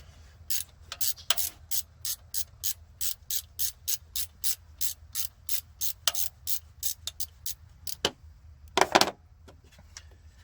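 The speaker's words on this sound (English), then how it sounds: "Grab you a 13mm wrench and then start taking that bolt that holds the pulley on" A 13mm ratchet wrench works the water pump pulley bolt on a 2011 Chrysler 300 Hemi, giving a long run of quick, even ratcheting clicks in bursts, close and crisp over a quiet background, with one heavier clunk near the end.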